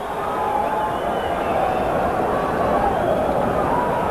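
Arena crowd roaring at a 1993 IBF super middleweight title boxing bout, a dense, continuous wall of cheering and hubbub that holds steady throughout, large and reverberant.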